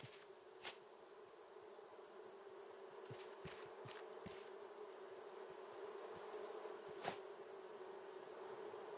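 Bees in the survival game Raft buzz in a constant droning hum, faint and steady throughout, with a few soft clicks scattered over the top.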